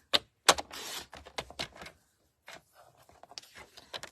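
White cardstock being cut down to size, a run of sharp crisp clicks and short slicing scrapes in quick bursts, then quieter scattered ticks, close and dry with no voice.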